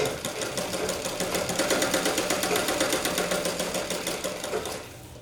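A sewing machine stitches a blouse sleeve in a fast, even mechanical rattle, close and loud and running steadily before easing off at the end.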